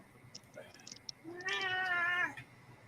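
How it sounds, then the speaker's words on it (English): A single drawn-out cat meow, clear and fairly close, rising then holding steady for about a second, with faint clicks and quiet room noise before it. "He says meow."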